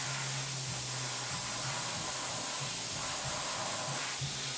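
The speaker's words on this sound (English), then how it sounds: "You want to sit there with about a medium airbrush pressure and kind of do like little circles" An airbrush sprays paint at medium pressure onto a Predator head model, giving a continuous soft airy hiss with a faint low hum underneath, steady and near.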